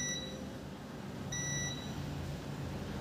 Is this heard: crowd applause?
no